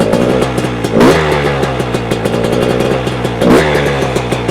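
A 2024 Beta 300 Race Edition two-stroke motorcycle with twin spark plugs revs from idle at about a quarter throttle, two sharp blips rising over a steady burbling idle, loud and close.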